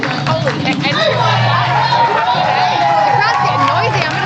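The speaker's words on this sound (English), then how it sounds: "The crowd's getting noisy." A noisy crowd fills a powerlifting championship hall with steady babble and scattered shouts, close and continuous, with voices talking throughout.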